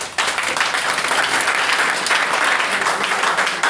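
Dense, steady audience applause from a crowd at a presidential swearing-in ceremony in Kinshasa, sustained and loud throughout with no talk over it.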